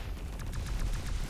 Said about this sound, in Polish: Heavy alien fire.